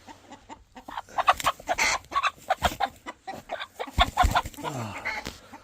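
Chickens, including one hen with a busted leg, clucking in a series of short, irregular calls close by, with a few louder squawks and no talking.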